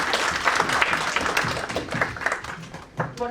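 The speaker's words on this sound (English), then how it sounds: "Let's again have a huge round of applause for all our excellencies here." Applause from an audience after a panel discussion, steady and moderately loud, with dense clapping that continues throughout.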